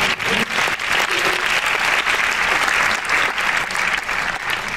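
Audience applause fills an awards gala hall, steady and dense from start to finish, with a few scattered voices mixed into the sustained clapping.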